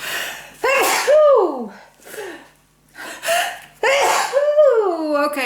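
A person sneezes up close with a few gasping intakes of breath before the final loud sneeze, set in a quiet indoor craft setting.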